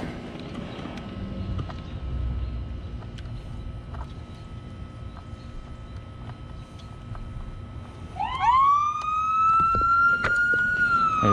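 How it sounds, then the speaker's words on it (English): A police siren rises and wails in the last few seconds, loud and fairly near, over a low hum of traffic and background noise. "There's some sirens."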